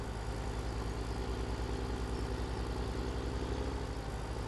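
A tractor engine in Farming Simulator 17, pulling an Assaloni Tecna 30 implement mod, gives off a steady, low, droning rumble that stays constant and fairly quiet throughout.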